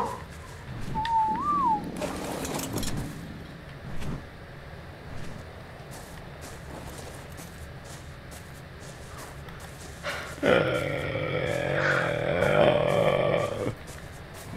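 Argentavis bird calls from the video game Ark: Survival Evolved: a short whistled note early on, then a louder, sustained raspy call later, over steady game background noise.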